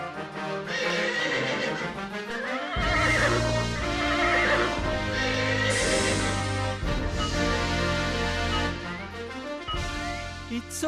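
A horse neighs and whinnies loudly in an animated folk story set at a royal court, with hoof clip-clops mixed in beneath a busy, full musical backdrop throughout.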